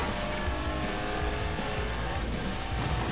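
A racing car in the mobile game Asphalt roars steadily through a continuous dense engine whine over game music, with a brief surge near the end and no clear skid.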